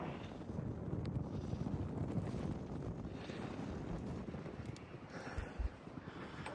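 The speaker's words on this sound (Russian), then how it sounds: "Очень ветрено." Strong wind roars steadily into the microphone high atop an abandoned port, a dense low rumble with gusty swells throughout and no voices.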